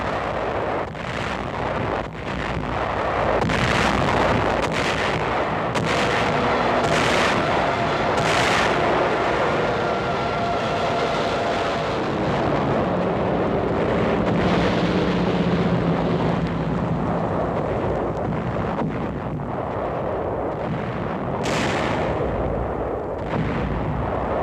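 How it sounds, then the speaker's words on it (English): Heavy artillery shelling and aerial bombing of island beach defenses at Peleliu in the Palau Group before the invasion: a continuous roar of booming blasts and repeated sharp detonations over wind-like rumble, loud and sustained with no speech. "5 successive days of bombing and shelling climax the pre-invasion foray."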